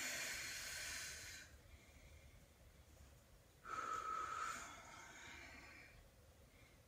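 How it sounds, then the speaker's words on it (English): Two deep, airy breaths during a Pilates stretch, one long exhale up front and another after a pause, breathy and close with quiet stillness in between. "Deep breath."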